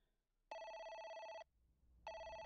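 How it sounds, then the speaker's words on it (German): A telephone rings in a horror video game: two electronic bursts of ringing, a long one then a second starting after a short pause, clear and alone against near silence. "Telefon?"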